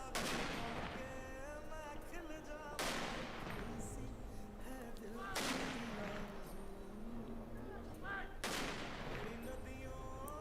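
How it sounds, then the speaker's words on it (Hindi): Cannon blasts boom out one at a time at a military funeral salute, each sharp report followed by a long rolling echo. The shots are spaced a few seconds apart and heard from a distance outdoors. "जनरल बिपिन रावत को 21 तोपों की सलामी दी गई।"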